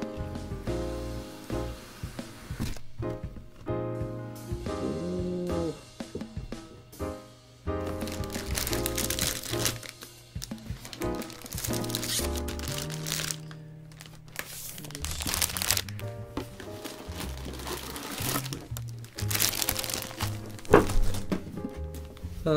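Paper packaging inside the box of an RX-78-1 Prototype Gundam Gunpla model kit crinkles and rustles as it is opened, with repeated crackles, tearing and soft thunks close by, alongside background music.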